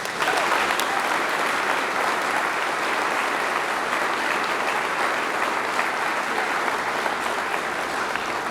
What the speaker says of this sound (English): Let's give these students a huge round of applause.